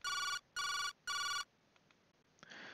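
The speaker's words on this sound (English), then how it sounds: "The phone rang twice before she picked it up." A telephone in the Jake Hunter detective game rings three times in regular electronic bursts, each followed by a short gap, before a faint click and quiet room noise.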